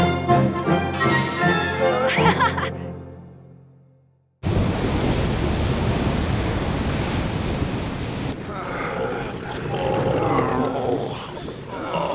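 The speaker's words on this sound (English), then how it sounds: "I've faced bigger waves than that and lived." Loud, steady roar of crashing ocean surf with rushing wind from an animated seafaring adventure, starting after a brief musical passage and continuing unbroken as a dense, close wash of waves.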